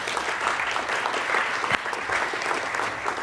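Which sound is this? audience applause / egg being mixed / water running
audience applause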